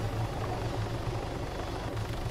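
An Arma 3 game helicopter drones continuously with a steady low rotor thrum, close and even in level across the short stretch.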